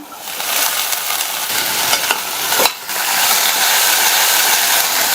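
Boiled mochai beans stirred into sautéed masala in a pan, giving a loud, dense sizzle with scraping strokes of a spoon, a short dip near the middle, then a steady hiss up close.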